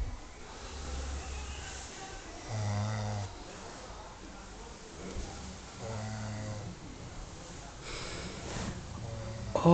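A person snores in a series of low, rasping breaths repeating every couple of seconds, fairly quiet and close, with faint background noise between snores.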